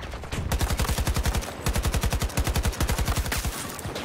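Automatic AK-24 rifle fire in the video game Battlefield, delivered as rapid, loud full-auto bursts with brief pauses between strings of shots, close and dominant.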